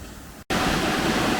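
Karcher pressure washer spraying at a car wash, a loud steady hiss of water jet that cuts out briefly and then resumes at full strength.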